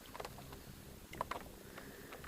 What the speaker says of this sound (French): j'aime bien ce petit bruit de clapot